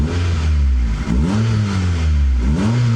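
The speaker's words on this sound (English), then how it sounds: "Listen to that exhaust." A 1998 Honda S-MX with a B-series engine revving through its exhaust, rising and falling in repeated loud, close blips over a throaty idle.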